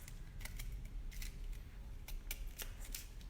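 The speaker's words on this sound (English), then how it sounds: "We're gonna stick our scissors like this into the tube and cut across the top of this middle piece." Scissors cut across the top of a paper tube in a craft build, giving a string of sharp, crisp snips in quick irregular succession, close and fairly quiet over a low background hum.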